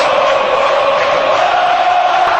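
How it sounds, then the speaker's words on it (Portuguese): Large crowd of Botafogo football fans at the Maracanã cheering in support of Vasco da Gama, a continuous dense roar of massed voices throughout. "Olha a torcida do Botafogo, grande número no Maracanã, apoiando o Vasco da Gama."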